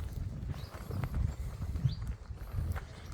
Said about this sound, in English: Sorry about the noise of my trolley